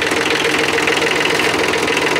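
A tractor engine runs steadily close by, a loud knocking idle-like chug during work with a homemade grader, continuous with no speech.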